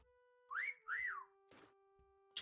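Two rising-and-falling whistle tones sound in a quick pair in the Meccha Chameleon game, followed by brief noise bursts, with no talk.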